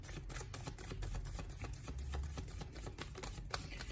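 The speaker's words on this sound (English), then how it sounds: "Just going to shuffle your cards a little" Tarot cards are shuffled by hand, a quiet, rapid run of soft riffling clicks and flicks repeating steadily, close and faint, with no talking.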